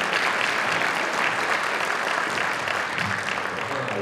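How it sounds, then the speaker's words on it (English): Continuous, even applause from an audience at a school district Teacher of the Year banquet, many hands clapping at steady volume throughout. "Give them a big round of applause"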